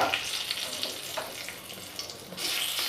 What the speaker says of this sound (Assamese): ইয়াতে এতিয়া মই প্ৰথমতে তেজপাত দি দিছোঁ